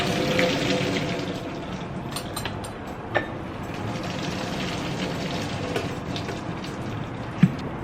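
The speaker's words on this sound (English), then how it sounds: "now I am going to drain my pasta." Hot water from cooked pasta for mac and cheese pouring out and draining through a sink, a steady splashing rush with a few sharp knocks, close and heard without talk.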